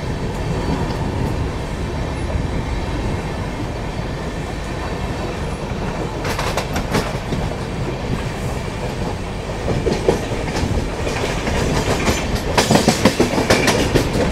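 Durg–Nizamuddin Humsafar Express running steadily, a continuous loud rumble with clickety-clack wheel rhythm and brief metallic rattles, heard from inside the moving train with no talk.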